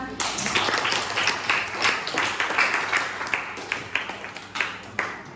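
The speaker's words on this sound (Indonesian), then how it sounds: "Tepuk tangan." A small classroom group claps after a coding lesson demonstration, with scattered uneven hand claps for several seconds and voices talking underneath.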